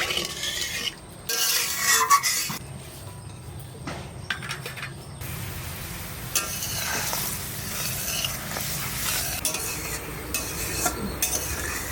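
Water poured into a pan of frying spices for a village-style pomfret curry, giving a steady close sizzle and bubbling with stirring and utensil clinks, with no one talking.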